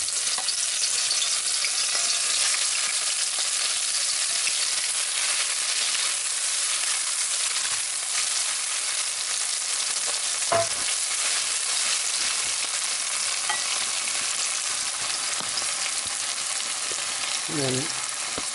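Onions fry steadily in about two tablespoons of oil in a pan, giving a constant close sizzle and hiss with occasional stirring, and no one talks over it.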